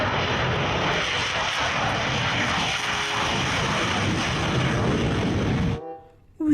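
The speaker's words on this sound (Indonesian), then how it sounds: "Ulala, keluarlah jet tempur." A fighter jet engine roar plays for a toy jet, steady and loud with a broad rushing tone for about six seconds, then it cuts off abruptly.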